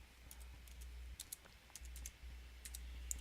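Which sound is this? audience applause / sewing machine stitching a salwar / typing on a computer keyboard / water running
typing on a computer keyboard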